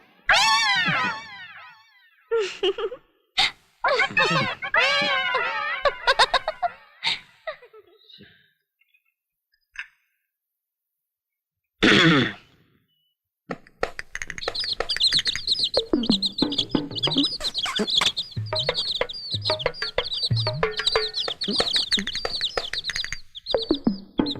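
High, rapid peeping from a crowd of chicks, continuous and busy, with a few louder calls and clucks mixed in after an earlier stretch of other sounds.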